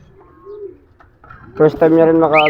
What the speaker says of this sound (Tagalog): Ito yung ibon natin si Lady Sam.